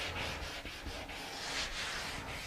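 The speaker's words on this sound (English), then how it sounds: "But you let it dry good, then you come back and you scuff sand it." A dried finish coat on wood being scuff sanded by hand, heard as close, steady back-and-forth rubbing strokes in a fast, even rhythm with no talking.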